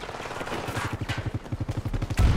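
Rapid automatic gunfire from a hip-fired weapon in Battlefield 2042 rattles in a fast, even burst of close shots, ending with a heavier thump.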